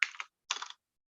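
Computer keyboard typing, two short bursts of quick key clicks separated by a brief pause, close and fairly quiet, with no talking.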